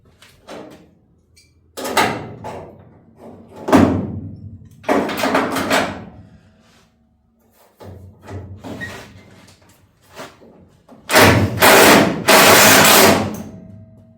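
The door of a Holden HQ GTS Coupe under sill panel repair is swung and shut repeatedly, producing loud metallic thunks and scraping bursts separated by short pauses, close by.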